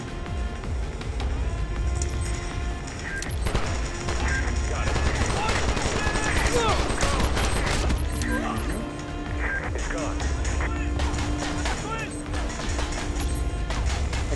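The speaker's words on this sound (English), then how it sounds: "Like I said, somebody's shooting me" Gunfire in the Call of Duty Strike Team video game, bursts of rapid shots and impacts over a loud continuous game soundscape, with voices talking throughout.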